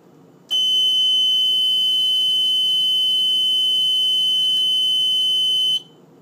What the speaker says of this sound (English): that's my Mircom FA-204E fire alarm panel